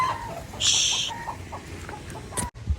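A hen clucks and squawks nearby while being chased at a mini zoo, with a sharp burst of calls early on and a few shorter clucks after, over a busy outdoor background.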